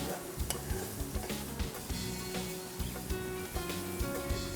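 Onions fry in melted butter in a pot at the start of an Indian dal, making a soft, low sizzle broken by scattered light clicks and scrapes of a spoon against the pan.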